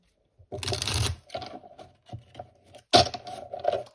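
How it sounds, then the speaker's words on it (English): Tarot cards being shuffled in short bursts, a riffle followed by several softer slides and taps, close by. "I'll do one last shuffle here."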